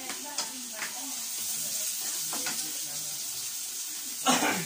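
Garlic fries in a pan for adobo, a steady soft sizzle running throughout with a few light scrapes and clinks, and a sharper splash near the end.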